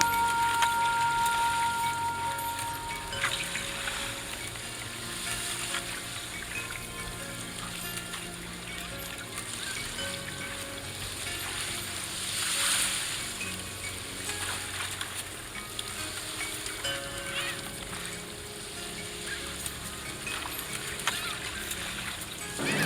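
A boat sails out on the open ocean with steady water splashing and sloshing against the hull and a constant broadband wash of wind and sea, with occasional voices in the background.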